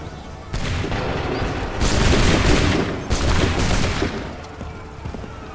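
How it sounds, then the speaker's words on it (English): A line of soldiers in Assassin's Creed III fires a musket volley, a sudden loud crackling burst of many overlapping shots followed by a second ragged wave of gunfire, close and booming. "Open fire."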